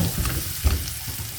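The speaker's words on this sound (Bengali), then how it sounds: "এখানে আমি হলুদ মরিচ জিরা ধনিয়া একটু দিয়ে একটু ভেজে নিব" Turmeric, chili, cumin and coriander frying briefly in a pan with green chilies for vegetable rolls, a short close hiss with a couple of stirring knocks.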